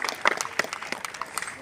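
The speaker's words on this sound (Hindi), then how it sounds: "इनके सम्मान में आप ताली बजाते हैं" A live audience claps briefly in honour of a team leader at a company talk, scattered hand claps rattling quickly and fairly close for a moment.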